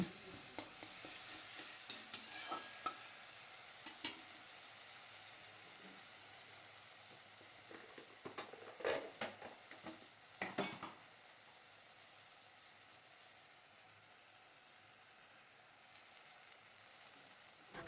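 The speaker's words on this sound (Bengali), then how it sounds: "জল দিয়ে আবারও নাড়াচাড়া করে নিচ্ছি" A spoon or spatula stirs spices with ginger paste and a little water in a hot pan, soft sizzling underneath, with scattered scraping and clinking of utensil against metal.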